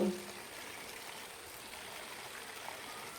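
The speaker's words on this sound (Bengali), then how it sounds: "একটা পাত্রে ডালটা ঢেলে নিচ্ছি জল দিয়ে পরিষ্কার করে ডালটা ধুয়ে নেবো" Water runs steadily into a vessel as chickpea lentils are washed by hand, a continuous close trickling and splashing rush with no talking.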